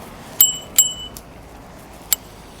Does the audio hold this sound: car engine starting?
no